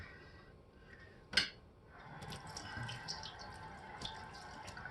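Something rinsed under a running kitchen tap during a morning shake preparation, a soft steady flow of water with a sharp clink early on and faint splashing, fairly quiet throughout.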